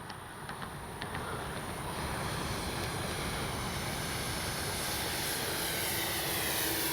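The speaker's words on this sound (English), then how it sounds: "let me do a gear pass one time before I land in the grass" A radio-controlled B-25J warbird model with its landing gear down makes a low pass, and its twin-engine drone builds to a loud, continuous roar over a wide, washy rush of air.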